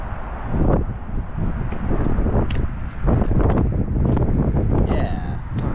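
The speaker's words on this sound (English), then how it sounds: "The wind was like proper in my face there." Strong wind gusting at an abandoned dockyard, a loud continuous rumbling buffet with wind noise battering the microphone throughout.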